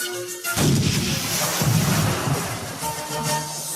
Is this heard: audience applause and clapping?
no